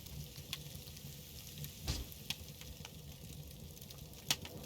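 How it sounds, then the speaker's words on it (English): Fish frying in a pan at a home fishing-and-cooking setup, a quiet continuous sizzle with scattered small pops and crackles, heard up close and alone. "you can hear the sizzling or the cooking sound stop"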